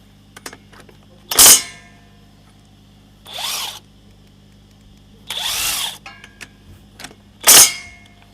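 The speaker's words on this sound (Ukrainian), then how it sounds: "девольтовський гайковерт. Пробуємо." A DeWalt cordless impact wrench on short studs at a truck service shop, fired in four separate bursts of a few tenths of a second to half a second each, with quiet pauses between them, close and fairly loud.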